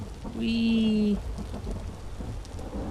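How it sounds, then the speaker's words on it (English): Rainstorm ambience in the Vintage Story video game, with a constant wash of rain and low thunder rumble throughout. A brief tonal whine or call rises over it early on. "You know, just the rain and the thunder."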